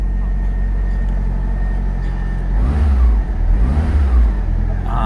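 A 1993 Lancia Delta Integrale Evo 1 engine on a cold start, a loud, close, low rumbling idle that swells into two revving surges before settling again.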